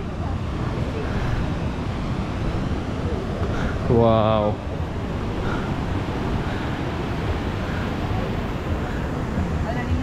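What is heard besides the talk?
ocean waves surfing on the shore, Mirissa, Sri Lanka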